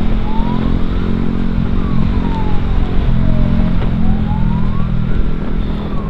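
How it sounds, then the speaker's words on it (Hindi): An ambulance siren wails in slow rising and falling sweeps through heavy road traffic, heard from a moving motorcycle. It sits over a steady, close engine drone. "और एम्बुलेंस आ रही है हमारे आगे"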